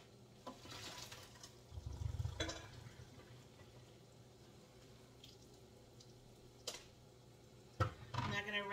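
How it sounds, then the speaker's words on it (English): Cooked pasta noodles drained into a sink, with soft splashing and trickling water near the start and a few clunks and splashes later, fairly quiet, beneath a background hum. "I'm gonna go ahead and just drain those real quick."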